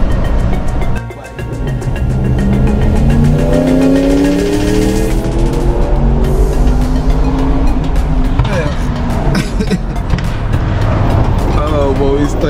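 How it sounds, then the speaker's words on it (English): Cars move through 5 o'clock rush-hour traffic on an outbound Atlanta highway, with a loud steady engine drone and tire roar from a vehicle close by that rises and falls, and speech is faintly present. "We stuck in this traffic."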